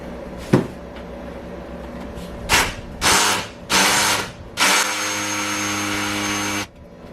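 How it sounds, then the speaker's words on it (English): A consumer-grade hammer drill in hammer mode bores through a wall for a Mr. Cool DIY mini split install, with several short whirring bursts followed by one long, steady, close, loud run. "This is the hammer drill."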